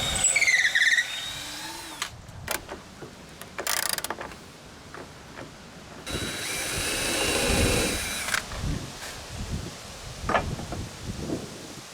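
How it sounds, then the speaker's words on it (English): A power drill bores a hole through cedar wood for a balcony build, whirring in short bursts with quiet pauses and handling clatter between them. "I will have enough pressure to hold something from the other side while the hole is being created, and it will not split on the other end"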